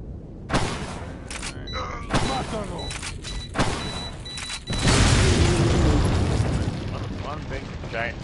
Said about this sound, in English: One big, giant, messy explosion.